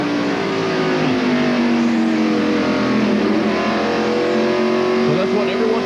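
NASCAR Winston Cup stock car at North Wilkesboro Speedway accelerating hard off a corner, a loud, steady engine roar with rising harmonic pitch filling the whole span, with a voice talking over it.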